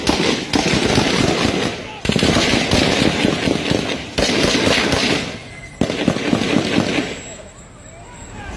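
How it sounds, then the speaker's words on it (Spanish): Several bursts of firearm gunfire from Fuerza Civil police, loud cracking volleys separated by brief pauses, with the rattle fading and a quieter tail near the end. "Detonaciones, armas de fuego por parte de Fuerza Civil."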